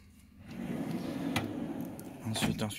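A drawer slides open on a workshop tool cabinet holding Facom tools, giving a close rolling rumble with a clack near the end, heard under someone speaking French.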